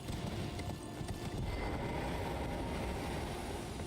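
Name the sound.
horse hooves clip-clopping, from video game Elden Ring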